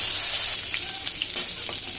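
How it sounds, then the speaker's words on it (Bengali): Hilsa fish heads deep-frying in hot oil in a wok, a loud, dense, continuous sizzle close by, crackling and spitting throughout with occasional small pops and faint utensil touches. "এবার আমি এটা কড়া করে ভেজে নেব।"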